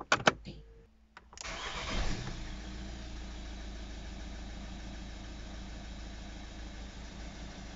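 An Audi A3 1.6 TDI diesel engine cranks with a few sharp clicks, catches, and settles into a steady idle with a faint ticking rattle.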